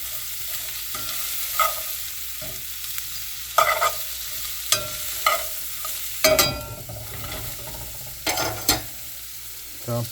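Butter melting over medium-low heat in a pan for a New Orleans BBQ shrimp sauce, with a low sizzle broken by irregular scraping and clattering knocks of a utensil against the pan, close and moderately loud.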